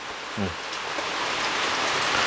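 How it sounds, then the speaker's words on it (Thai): Heavy overnight rain falling steadily on a rural house, a dense continuous hiss that builds slightly over time, with a brief low murmur near the start. "ตกดีพี่น้องไอ้ฝนนะ"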